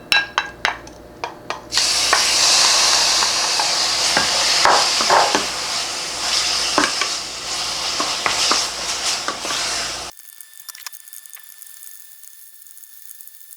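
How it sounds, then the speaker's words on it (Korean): Marinated pork stir-frying in a pot with a spoonful of cooking oil over high heat: a loud, steady sizzle with scraping stirs and clatters close by, ending abruptly into near quiet with only faint clicks. "재워둔 고기를, 돼지고기를 먼저 볶아줘요."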